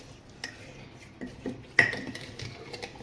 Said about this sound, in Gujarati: પછી એને ચમચાથી મિક્સ કરી દેવાનું છે